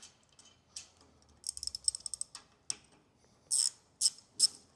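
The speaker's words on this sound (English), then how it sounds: "You're just tightening it with the wrench." A 14 mm wrench tightens threaded bolts while a vehicle lift is assembled, giving quiet, close ratcheting clicks in short bursts with brief pauses between them.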